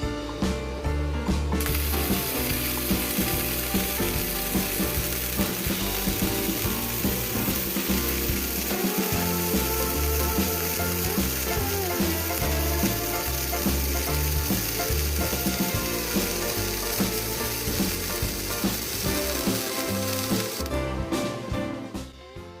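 MIG/MAG welding with anti-spatter gel and spray applied to the welding torch gives a steady, loud crackling sizzle that runs continuously for about twenty seconds, with no voices.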